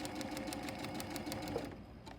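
Close, steady stitching from a sewing machine sewing a quilt block, a rapid rhythmic clatter that runs for about two seconds, then stops and leaves quieter residual noise.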